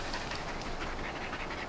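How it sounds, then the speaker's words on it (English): Dogs panting hard and fast after a long run, a dense, steady breathy rasp close to the microphone that carries on without a break and with no other sound. "Jade is panting like crazy, and Bo is like barely breathing."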